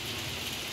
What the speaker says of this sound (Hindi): अब भी बारिश कुछ कम नहीं, बहुत ज़्यादा बारिश हो रही है